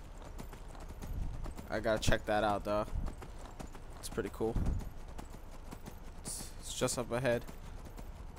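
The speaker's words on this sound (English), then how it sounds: "Actually downloaded a mod so I can actually summon a horse whenever I need to" A summoned horse's hooves clip-clopping steadily at a gallop in the video game Skyrim, rhythmic and fairly close, running beneath someone talking throughout.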